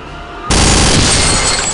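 Loud, continuous rapid fire from the Venom gun in a Return to Castle Wolfenstein mod kicks in abruptly after a brief quiet moment and roars steadily to the end.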